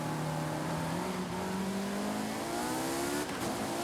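A car launching from the start in Forza Horizon 5, engine revving and climbing in pitch as it accelerates hard, with a gear change near the end, loud and continuous without talk.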